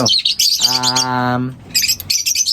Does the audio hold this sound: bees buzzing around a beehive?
no